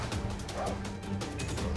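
Dog barking in the video game Far Cry 4, yips and barks repeating through dense game noise and gunfire-like clutter, loud and busy throughout.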